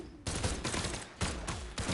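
Pistol fire in the platform fighting game Brawlhalla, a few rapid bursts of punchy shots, loud and close, with no talking over them.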